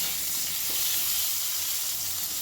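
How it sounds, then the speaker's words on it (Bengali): Raw sweet pumpkin fries in mustard oil in a kadai, making a loud, dense, continuous hiss of sizzling that stays steady throughout with no voices. "মিষ্টি কুমড়োটাও ভাজা হয়ে গেছে"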